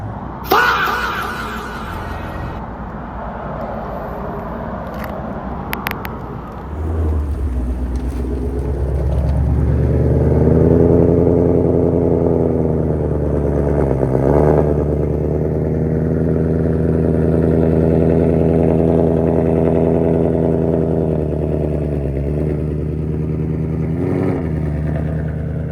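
A car rolls up near a shop where a Whipple-supercharged S650 Mustang GT with a drag pack is parked; a low engine rumble swells from about seven seconds and holds steady and close, with brief louder surges.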